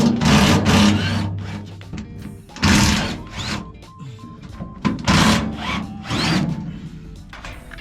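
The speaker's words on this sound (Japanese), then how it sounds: "ここのネジを外して、このアンダーフロアのパネルを一回外して" A power tool whirs in three separate bursts while backing screws out of an underfloor panel on a 1973 Volkswagen Type 2. Each burst is loud and close, with short pauses between them.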